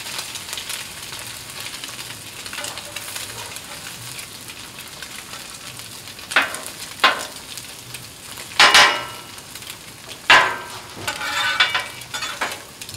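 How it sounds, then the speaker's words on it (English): Eggs and hashbrowns frying in a pan with a steady, close sizzle throughout, broken by a few louder scraping clatters of a spatula as the eggs are turned near the end. "Flip our eggs over, we're almost done"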